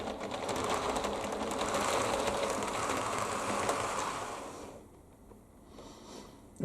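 Regional railway stock on a model railway layout rolls along the track with a rattling clatter that swells and then fades as it passes, near and moderately loud.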